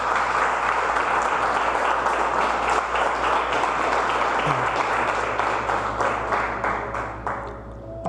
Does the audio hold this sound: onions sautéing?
no